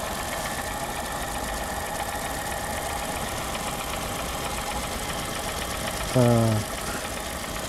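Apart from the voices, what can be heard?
Honda Fit 1.3 car engine idling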